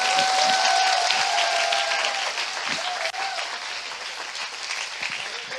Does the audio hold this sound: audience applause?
yes